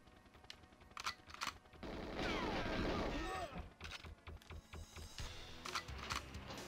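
Dual-wielded guns in GoldenEye 007 on the Nintendo 64 fire in rapid bursts: a dense sustained stretch of automatic fire in the middle, framed by scattered single shots and clicks, with voices talking over it.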